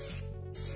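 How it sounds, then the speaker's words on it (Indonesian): A spray can hisses steadily as it coats a dried flower, the broadband aerosol spray sounding close and continuous, dipping briefly midway before resuming at full strength. "Jarak semprotnya juga tidak terlalu dekat ataupun jauh, sedang-sedang saja ya, bisa diperkirakan seperti ini."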